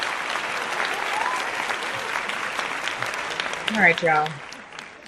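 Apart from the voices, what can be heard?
applause for podcast guest Deja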